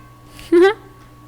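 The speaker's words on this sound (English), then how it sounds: "he's literally crying for my mother to feed him" A hungry cat gives one short, close meow, a brief rising cry crying to be fed, against a quiet indoor background.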